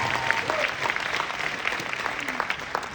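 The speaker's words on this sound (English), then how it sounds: "please give them a round of applause" Steady applause from an audience for the presenters, many hands clapping at moderate distance with a soft crowd murmur under it.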